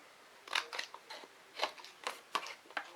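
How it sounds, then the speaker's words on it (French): Small snips of scissors cutting a paper square on the diagonal for a scrapbook page, about eight crisp close cuts in an irregular rhythm with short pauses between. "j'enlève mon carré avec des petits coups de ciseaux"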